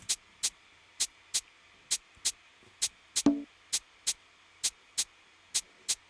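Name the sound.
kada snare rim shot pattern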